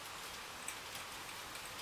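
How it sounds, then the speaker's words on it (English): Steady rain falling, a soft, even hiss of drops that continues without pause or any voice. "The rain falls steadily around you."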